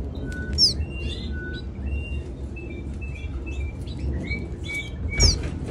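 Young canary chicks being hand-fed in a cage give high, thin chirps and squeaks in short scattered bursts over a low steady background hum, fairly faint, with one brief louder rustle near the end.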